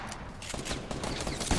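Dense, continuous gunfire from a Fortnite match, a rapid burst of shots running without pause for under two seconds, loud and close.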